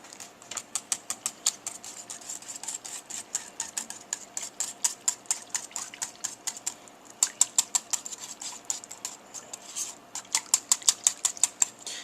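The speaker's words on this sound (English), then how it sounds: "all I'm doing is stirring in a bowl" A whisk stirs a mixture in a bowl for a stuffed poblano pepper filling, tapping and scraping in quick, steady strokes throughout, close and fairly soft, with no talking.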